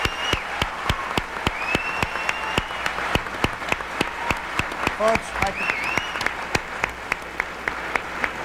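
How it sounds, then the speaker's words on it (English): Audience applause at a 1992 Democratic primary candidates' debate, a dense steady clapping that fills the whole stretch, with a moderator's brief word heard over it. "I can understand your applause"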